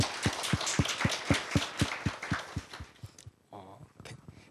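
Clapping at a Korea University graduate school admissions information session, a run of sharp, evenly spaced claps like a lone pair of hands rather than a full crowd, fading out after about three seconds into quiet room sound.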